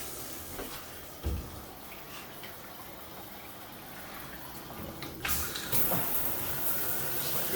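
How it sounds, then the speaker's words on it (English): Hotel room shower at a Hampton Inn running steadily, a continuous broadband hiss of spraying water with a few louder bumps and splashes near the end. "Let's check out the shower."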